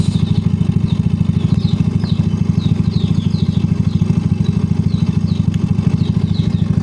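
A Yamaha Mio i 125 scooter engine idles steadily up close, a loud rapid putter with light mechanical clatter throughout.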